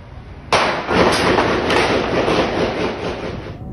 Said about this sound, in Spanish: Desde ventanas aledañas se alcanza a escuchar los disparos